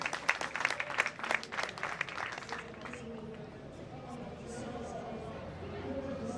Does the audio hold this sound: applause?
yes